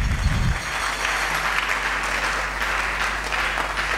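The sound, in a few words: church congregation applauding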